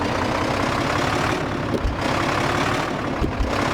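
A heavy truck engine in Truck Mechanic Simulator 2015 drones steadily, low and loud, holding a constant rumble throughout with small bumps but no clear rise in revs.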